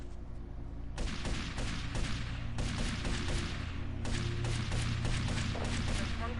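Gunfire rings out in GTA Vice City as chefs are shot, with repeated sharp reports over a loud, steady game soundscape, close and dense.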